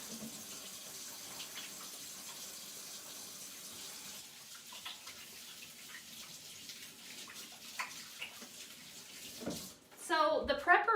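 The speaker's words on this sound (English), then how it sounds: "I'm gonna wash my hands" Tap water runs into a kitchen sink during freezer-meal prep, a steady faint rush through most of the stretch, ending in louder splashing and clatter near the close.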